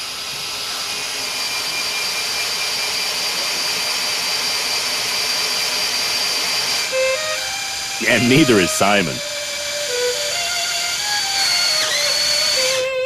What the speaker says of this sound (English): Cutting through a thick door requires real effort